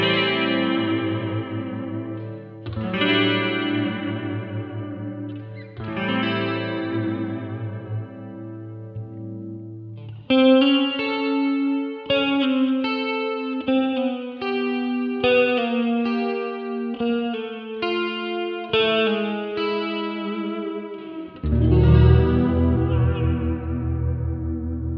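An electric guitar with a coil-tapped bridge pickup plays glassy clean tones with chorus and echo, first as sustained chords, then as a picked melodic line, ending on a fuller strummed chord.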